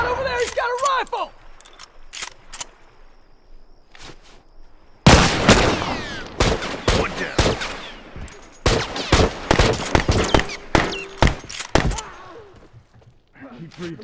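Rifle gunfire in The Last of Us Remastered with a frontier rifle: a dense run of loud, sharp shots and bursts, some in rapid succession, with shouted voices between them.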